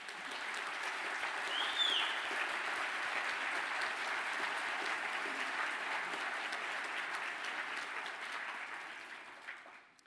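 A sustained round of applause for culinary arts graduates at a graduation ceremony, broad and even crowd clapping that holds steady for about ten seconds before tapering slightly at the end.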